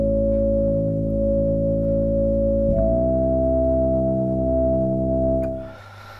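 Synthesizer patch imitating the tripod sound from War of the Worlds, a loud sustained droning tone with stacked harmonics that shifts pitch upward partway through, then holds and fades out near the end.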